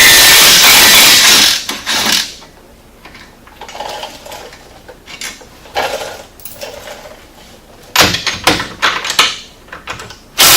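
A 3/8 ratchet and a 15mm wrench work nuts off the hub of a RZR, with bursts of rapid ratcheting clicks and metallic tool clatter separated by quieter pauses, close by, no voices.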